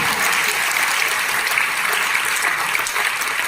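Sustained audience applause fills a lecture hall during a talk session in Chennai, a dense, even wash of many hands clapping for several seconds without any speech.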